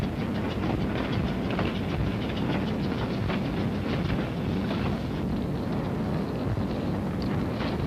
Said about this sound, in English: And the trains loaded with war wearies going back for salvage, loaded with supplies for the front.